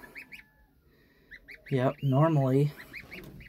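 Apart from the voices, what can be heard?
mother goose honking beside her goslings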